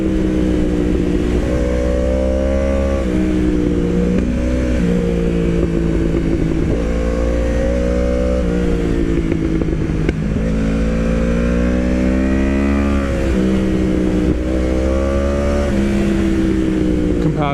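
A 1000cc sport motorcycle engine on twisty roads, droning steadily and loud up close, with repeated rises and falls in pitch as the rider shifts and rolls on and off the throttle through bends.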